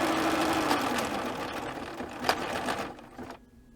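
Bernina B990 sewing machine stitching at speed, a steady close mechanical whir with rapid needle rhythm that runs for about three seconds, then stops.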